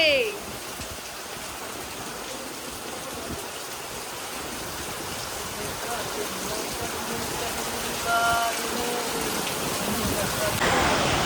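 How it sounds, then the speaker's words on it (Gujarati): Steady, dense rainfall pours down continuously at night, a loud broadband hiss with a few brief tonal sounds near the end. "બહાર ધોધમાર વરસાદ ચાલી રહ્યો છે"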